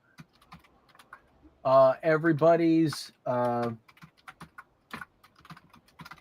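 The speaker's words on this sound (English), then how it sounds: "I'm just now typing up" Computer keyboard typing clicks away in scattered, quick taps, interrupted by a loud stretch of speech in the middle, then continuing as light keystrokes afterward.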